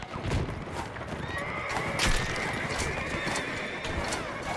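A horse whinnies loudly during a cavalry charge in a First World War video game, with hoofbeats and dense battle noise filling the background throughout.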